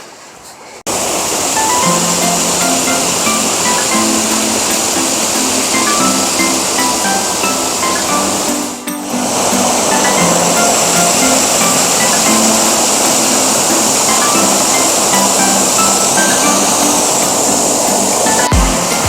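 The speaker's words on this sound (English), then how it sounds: "the waterfall behind me now" A river waterfall roars steadily and close, a dense continuous rush of falling water that dips briefly midway before resuming at full strength.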